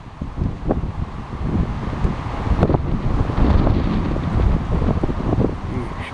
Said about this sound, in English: You should be able to pick up the wind coming, picking up on the camera here.